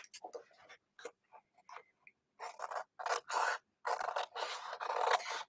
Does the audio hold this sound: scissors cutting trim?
yes